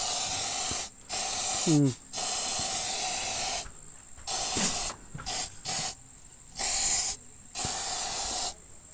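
Aerosol spray can sprays insecticide in repeated bursts of loud hissing, each lasting about a second with short gaps between them, close by, and a person murmurs briefly in between.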